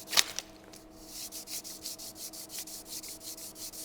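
A hand tool blade is rubbed back and forth on a sharpening stone, a dry rhythmic scraping repeated about a dozen times at a steady pace, close and fairly quiet after a sharp clink at the start.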